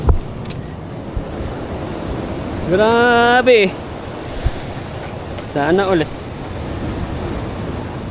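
Ocean waves and wind roll steadily at sea from a fishing boat during a giant trevally catch, a broad continuous wash with wind noise on the microphone, while people talk briefly over it.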